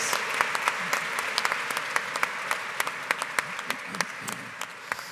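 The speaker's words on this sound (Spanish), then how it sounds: "Un aplauso, por favor, para ella, por sus reflexiones." An audience at a Spanish-language talk on a new energy revolution applauds a speaker, giving dense, sustained clapping throughout with sharper individual claps standing out.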